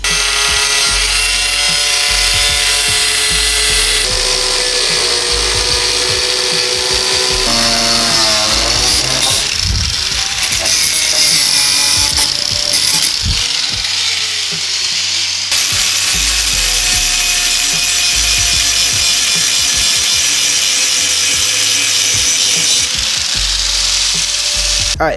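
A power tool cuts a slanted section off a Hyundai Genesis Coupe body piece, a loud, continuous, harsh grinding buzz that runs for about twenty-five seconds, shifting in pitch and briefly easing in the middle, with no talking.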